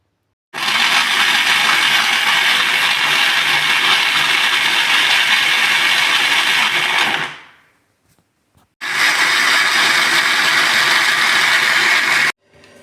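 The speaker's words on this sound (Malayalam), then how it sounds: "ഇത് നമുക്ക് മിക്സിയിൽ നന്നായി അടിച്ചെടുക്കാം." A mixer grinder whirs loudly and continuously while blending green apple with sugar and cold water, cuts off, then roars again for a few more seconds before stopping.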